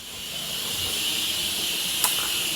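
Steady high hiss of steam escaping from a pressure cooker's whistle on the stove while simmering papaitan, continuous and fairly close, with a brief sharper burst near the end.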